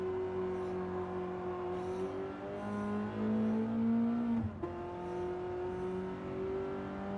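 In the Gran Turismo video game, a car engine wails through a corner, revs dipping and climbing, then a sharp downshift blip and renewed acceleration, loud and continuous with no talking.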